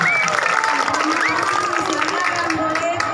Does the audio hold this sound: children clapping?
yes